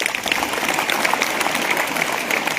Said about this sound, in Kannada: ಎಲ್ಲ ಜೋರ್ ಚಪ್ಪಾಳೆ ಹೊಡೀರಿ.